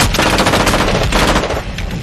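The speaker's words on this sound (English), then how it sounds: "Heavy gunfire is exchanged between the two, and Hank is able to get a hit on Tuco," Sustained heavy gunfire exchanged in a Breaking Bad story, rapid automatic bursts overlapping with single shots, loud and close, continuous for the whole stretch with no pauses.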